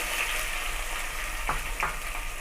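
Chopped onion sizzles in hot oil already crackling with mustard seeds for broken rice upma, a constant close frying hiss with a couple of brief stirring scrapes near the end.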